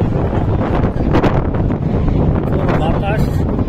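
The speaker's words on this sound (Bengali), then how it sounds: "বাতাস, সাথে প্রচুর ধুলা," Strong gusts of dusty wind buffet the microphone, a loud, rough, continuous roar with rustling bursts, close and unbroken throughout.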